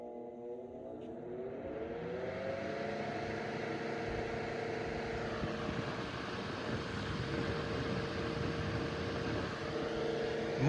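A c.1915 Century Electric S2-10 oscillating desk fan runs on high, its motor whine holding a steady tonal hum over a broad, even rush of moving air, close and continuous.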